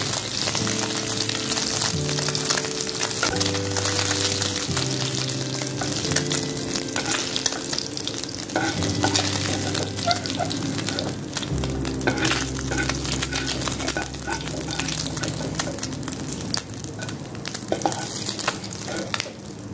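Steady, loud sizzling of two green chillies frying in oil already used to fry fish, with occasional stirring scrapes and crackles, continuous throughout with no voices.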